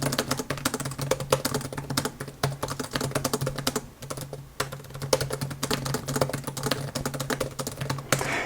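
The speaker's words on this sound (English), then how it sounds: "Just test out that keyboard." Steady typing on a Lenovo Duet 7i detachable laptop keyboard: rapid, close key clicks with short pauses, a faint hum beneath, and no talk.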